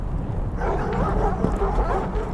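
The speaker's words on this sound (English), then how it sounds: "You awake to the sound of distant barking." In the video game The Pale Beyond, dogs bark in the distance, faint yips and barks rising out of a low wind-like background, with no talk.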